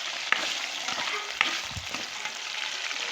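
Chicken curry with potatoes frying in a pan, a steady broad sizzle running throughout with a couple of sharp spoon clinks against the pan.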